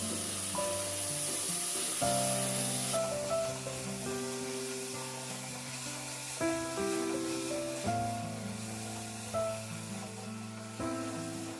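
Vegetables with tomatoes and salt sauté in a pan for veg pulao, giving a steady soft sizzle that is partly masked by prominent background music throughout.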